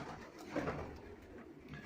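Pet pigeons in a breeding box give a soft, low coo, a single brief murmuring call heard close but faint against quiet background.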